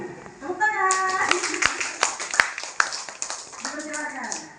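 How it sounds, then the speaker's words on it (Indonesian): At a school event at an Indonesian elementary school, a group claps hands in brisk, uneven bursts, with a voice and other talking heard alongside. "Tepuk tangan"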